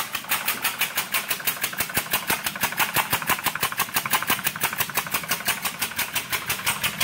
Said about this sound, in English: Pretty powerful engine.